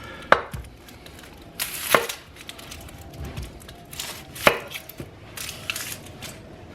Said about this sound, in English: When chopping an onion, safest way to chop an onion